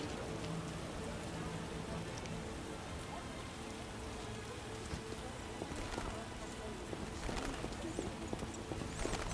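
Heavy rain pours down in the video game The Witcher: Enhanced Edition as a continuous dense hiss, with horse hooves clopping and faint voices underneath.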